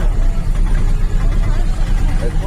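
A CNG auto-rickshaw engine running while riding, a loud, steady low drone with rattling vibration throughout, with people talking over the noise.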